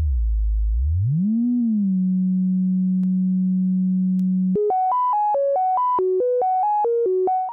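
A Marienberg multimode analog filter, resonance turned up into self-oscillation, produces a pure electronic sine tone that glides upward and holds steady, then jumps into a stepped sequence of clean notes at a higher pitch.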